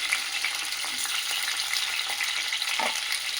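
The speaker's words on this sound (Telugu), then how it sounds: "క్యాప్సికము ఫ్రై చేయాలండి, కొంచెము లైట్గా పచ్చివాసన పోయే వరకు." Capsicum frying lightly in a pan for a curry, giving a steady, even hiss of sizzling with faint stirring scrapes, close and continuous with no talk over it.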